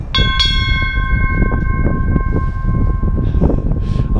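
Church bells rung by hand in the bell tower of Saint Sophia's Cathedral, Kyiv, two loud close strikes at the start leaving a long ringing hum, with steady low rumble and scattered knocks throughout.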